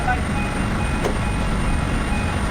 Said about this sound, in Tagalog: May ECU alarm dito.